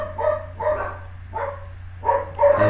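Dogs bark close by in five loud bursts of two or three barks each, separated by short pauses, over a low steady hum, with no talking.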